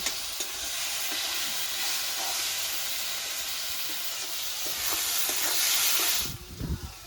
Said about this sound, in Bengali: ভালো করে এটাকে নেড়ে চেড়ে মশলাটাকে ভালো করে কষিয়ে নেব।